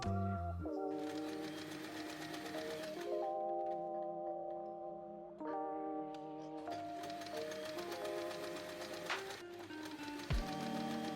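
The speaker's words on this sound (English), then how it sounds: "Then sew along both sides. We'll repeat this for all fabric strips." A domestic sewing machine stitches along both edges of folded fabric strips in several bursts. Each run of rapid, buzzing needle strokes stops briefly and starts again, close and clear, with a thump near the end.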